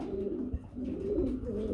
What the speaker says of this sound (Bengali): খুবই সুন্দর এক জোড়া ইংলিশ নান কবুতর রয়েছে